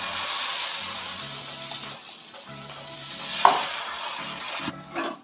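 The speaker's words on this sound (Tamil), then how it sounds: "இப்போ இதை வந்து நான் உங்களுக்கு தோசை ஊற்றி காட்டுறேங்க பாருங்க" Millet dosa batter for a varagu arisi veg dosa hits a hot pan, giving a loud, steady sizzle. Softer scraping follows as it is spread thin, and a brief sharp knock comes near the end.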